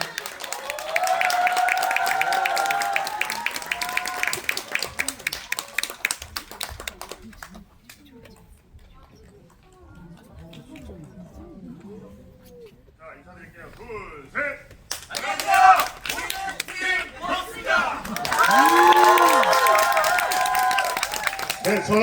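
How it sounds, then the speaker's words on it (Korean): A cinema audience applauds the director and cast of the Korean film Boss at a stage greeting. Loud clapping opens and closes the stretch, with a quieter gap of scattered sounds and voices in between. "나오실 때 큰 박수 부탁드리겠습니다"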